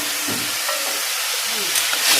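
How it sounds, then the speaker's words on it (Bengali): Potato and pointed gourd curry simmering in a pan just after water is added, giving a steady close hiss and soft sizzle with faint stirring. "আমি পরিমাণ মতো জল দিয়ে দিলাম তরকারিতে"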